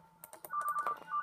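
A phone rings in the horror game Five Nights At TubbyLand, giving a run of short, bright electronic beeps in quick succession after a few soft clicks, clear and moderately loud with no talking.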